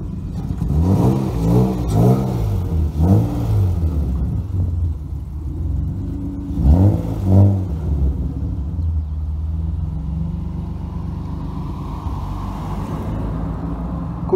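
A BMW E30 engine starts and revs in repeated bursts, climbing and falling several times close by before settling into a steady idle rumble.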